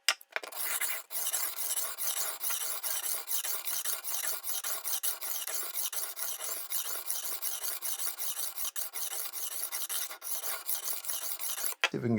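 Steady rasping scrape of a knife edge drawn repeatedly across a rolling sharpener, a continuous close grinding rub broken by a few brief pauses, no voices.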